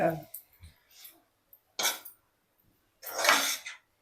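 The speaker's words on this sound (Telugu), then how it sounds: "మధ్య మధ్యలో మిక్స్ చేసుకుంటూ ఉండాలి." A spoon scrapes and clinks while gongura leaves are stirred in a cooking pan, with a few separate bursts of stirring between spells of quiet and brief talk nearby.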